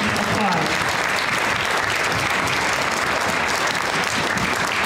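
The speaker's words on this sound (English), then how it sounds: "let's give them another round of applause." Audience applause at an elementary school strings chamber music night, a dense steady wash of clapping filling the whole stretch at close, loud level with no pause.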